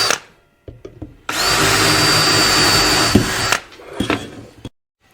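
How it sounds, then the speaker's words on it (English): A power drill whirs loudly and steadily for about two seconds, bracketed by short clicks and bumps of handling, drilling for rivets while relining brakes on a Caterpillar D4. "So I think we're good to drill."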